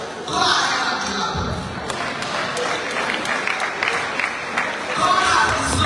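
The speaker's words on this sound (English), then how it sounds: "Go ahead and clap." Audience clapping during a speech by the First Lady of Sierra Leone, a sustained, dense wash of applause from a crowd, moderately loud, with a voice speaking over it.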